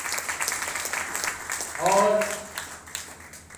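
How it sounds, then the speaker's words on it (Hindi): An audience in a hall applauds team coordinators with sustained, even clapping from many people, while a voice cuts in briefly partway through. "मैं चाहूंगा उनके लिए भी एक तालियां हम लोग बजाएंगे"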